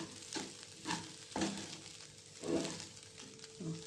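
Food stirred while frying in a pan, with a steady sizzle broken by several distinct scraping strokes of the utensil spaced about a second apart, close and moderately loud.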